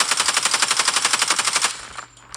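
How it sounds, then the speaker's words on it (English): Rapid automatic gunfire from the mobile shooter Call of Duty Mobile, a fast even burst of loud shots that runs for about a second and a half, then cuts off into quieter game ambience and one last sharp report. "Now if I aim behind them and I'm shooting,"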